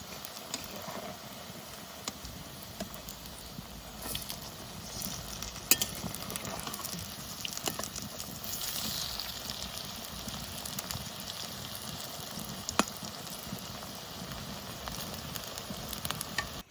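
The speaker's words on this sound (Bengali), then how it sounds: "সজনে ফুলের বড়া সুন্দর লাল লাল করে ভেজে নিয়েছি।" Drumstick flower fritters fry in hot oil in a wok, giving a steady, fairly quiet sizzling hiss throughout with a few faint clicks, and no one speaks.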